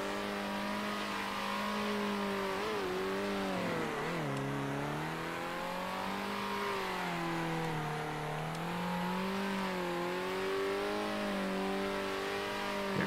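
A race car engine in the Circuit Superstars racing game drones and revs steadily for the whole stretch, pitch rising and falling with gear changes and corners, loud and alone with no talk.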